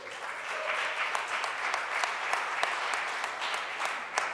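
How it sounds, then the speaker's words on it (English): Steady, even applause from a conference audience fills the room for a few seconds, a dense wash of claps with occasional sharper individual hand strikes standing out near the listener. "Round of applause for Captain Motion."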